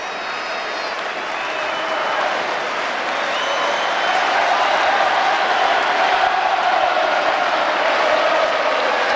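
A Scottish football crowd cheers in the stand at a 1997 Kilmarnock versus Falkirk match, a loud continuous roar of voices and clapping with whistles and chanting that swells slightly toward the end.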